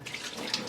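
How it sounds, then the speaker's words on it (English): Cold tap water runs steadily over deboned salted fish being rinsed in a kitchen sink, a close, continuous splashing stream with no talk. "Now I'm just going to rinse it with cold water"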